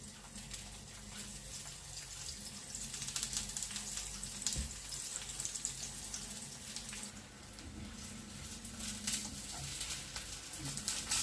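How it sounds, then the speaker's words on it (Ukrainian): Eggplant slices frying in hot oil, a quiet continuous sizzle and patter with scattered small pops, heard alone with no talk. "олія розігрілась, викладаємо баклажани і смажимо з обох сторін"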